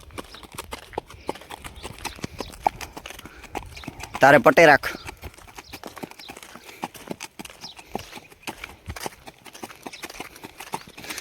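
A mare being driven on a village road, her hooves clip-clopping in a steady walking rhythm close by, while people talk over the hoofbeats.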